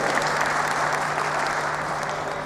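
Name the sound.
audience clapping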